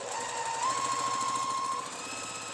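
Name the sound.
sewing machine stitching fabric pieces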